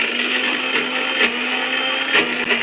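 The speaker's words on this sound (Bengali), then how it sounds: "মশলা পেস্ট হচ্ছে" A mixer grinder whirs loudly and steadily, grinding spice paste with a continuous high motor whine and small surges, no voices over it.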